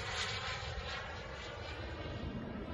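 A radio-controlled model airplane flying slowly overhead at a sundown flying field, a steady droning engine hum heard from a distance without a break.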